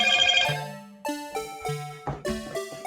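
A phone ringtone plays loud and close, a bright melodic sequence of synthetic tones stepping through several notes with no talk over it.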